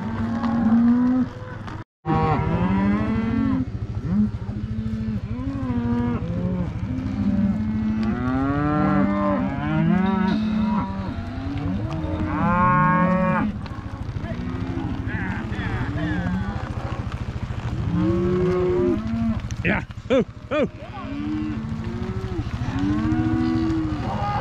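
Cattle moo loudly and repeatedly, many overlapping calls near and far, as cull cows are cut out and sorted by cowboys on a shipping day; a voice briefly shouts amid the steady lowing.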